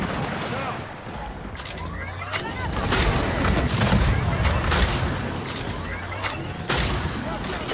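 Rapid gunfire bursts in Gears of War 4 Horde mode crackle and rattle in dense volleys with booming impacts, loud and near, mixed with game effects while a player talks over the action.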